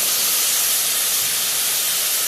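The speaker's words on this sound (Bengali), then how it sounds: "এটা একটু ভাজা ভাজা করে দেবো" Garlic and chili frying in a small amount of oil for a spice paste, giving a steady, close, broadband hiss with no pauses and no talk.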